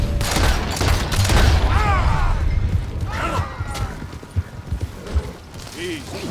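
Gunfire in Red Dead Redemption 2 rings out as a fusillade of shots mixed with voices, with a few sharper, closer cracks toward the end.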